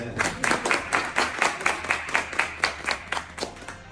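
A crowd applauds steadily, many hands clapping in a dense, continuous patter that swells and recedes slightly over several seconds.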